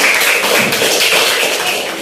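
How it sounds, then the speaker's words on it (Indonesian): A class applauds together at the end of an Indonesian lesson: a steady, dense patter of many hands clapping at close range for about two seconds, with no talk over it. "Kalau begitu tepuk tangan dulu untuk kita semua."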